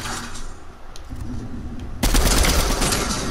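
Burst of automatic gunfire in a Fortnite match, dense and loud rapid shots that start abruptly midway and keep going, over a quieter stretch of game ambience before.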